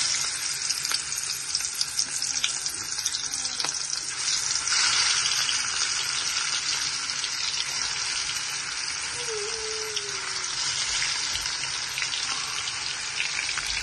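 Fish fries in hot oil, giving a continuous close sizzle and crackle that holds steady for the whole stretch with a few small spatters.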